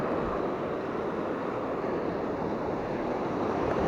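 Rough, choppy sea breaking against a rocky shore while fishing for leerfish, a continuous loud wash of surf mixed with wind buffeting the microphone, steady throughout, no speech.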